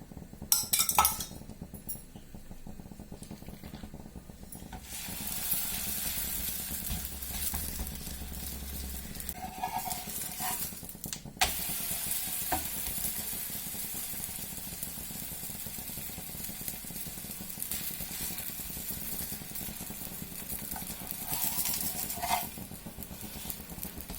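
Coconut obbattu (kayi obbattu) roasting in a little oil on a pan: a continuous soft sizzle with occasional clinks of a utensil against the pan, a few brief louder scrapes, and no talking.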